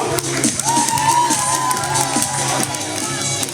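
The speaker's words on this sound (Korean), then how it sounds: "선생님 박수." A lively rural gathering's audience claps and cheers for a teacher, bright whoops and shouted voices rising over a bed of clapping, fairly close and loud throughout.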